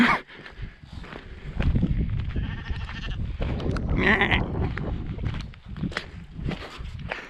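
Sheep bleat several times amid shuffling footsteps and farmyard movement in the Peak District, fairly close and busy throughout.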